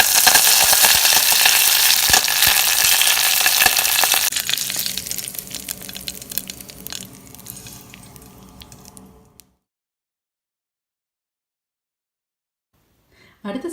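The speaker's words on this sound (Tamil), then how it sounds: "எண்ணெய் சூடானதும் கடுகு உளுத்த பருப்பு சேர்த்துக்கோங்க. கடுகு பொரியும் போது கருவேப்பிலை சேர்த்துக்கோங்க." Mustard seeds and urad dal sizzle and crackle in hot sesame oil, loud and steady at first, then fading over several seconds until the pan falls silent.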